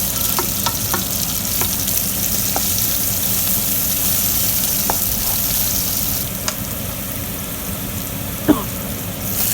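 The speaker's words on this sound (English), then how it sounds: "So now I'm adding the cabbage into the frying pan or kahari." Steady sizzling of cabbage frying in a hot kahari, with a few light clinks of a utensil stirring.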